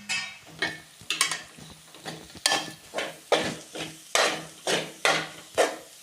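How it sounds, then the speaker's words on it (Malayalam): Moringa leaf and egg stir-fry being stirred in a pan, with a steady run of spoon scrapes and soft clatter, about ten strokes in an even rhythm over a faint sizzle, close and fairly quiet. "മുരിങ്ങയിലത്തോരൻ്റെ അടപ്പ് മാറ്റി നമുക്ക് ഇളക്കി യോജിപ്പിക്കാം."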